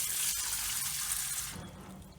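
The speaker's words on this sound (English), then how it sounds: "you can use the spray wand to spray away the sand" A steady hissing spray of water from a Wazer Pro waterjet cutter's spray wand, washing away sand, runs close by, then softens toward the end.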